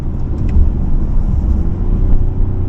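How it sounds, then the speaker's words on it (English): 2019 Toyota Avalon Touring under hard acceleration as the automatic transmission downshifts, producing a steady, fairly loud engine drone with road rumble and no abrupt change in tone. "That was a very timid downshift."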